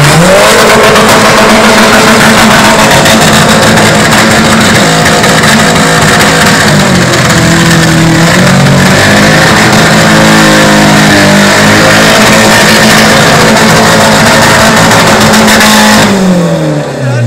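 A loud car engine roars and revs continuously up close, pitch rising and falling through gear changes before cutting off abruptly at the end.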